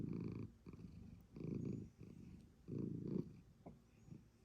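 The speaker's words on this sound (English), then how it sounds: "You're purring." A cat purring up close, soft rumbling bursts coming and going in an uneven rhythm at low volume, with no speech over it.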